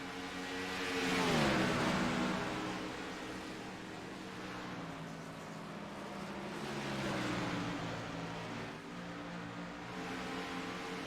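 Stock-car engines drone and swell as race cars in a racing video game circle the Dover International Speedway oval during a long green-flag run, passes rising and fading in steady waves with no voices.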